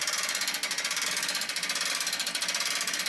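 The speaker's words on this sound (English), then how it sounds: "Now just basically crank it up." A Proline Tool Lift King bed lift cranked by a ratchet raises a truck bed, giving a rapid, steady train of loud metallic clicks close by, alone without talk.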